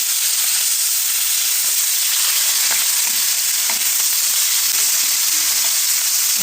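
Hilsa fish frying in hot oil in a home kitchen gives off a loud, steady broadband sizzle and hiss, continuous throughout with faint crackles and pops and no talking.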